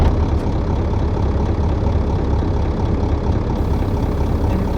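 A truck built from junkyard parts idles with a steady, loud low rumble of engine noise that stays even and continuous for several seconds, with no voices over it.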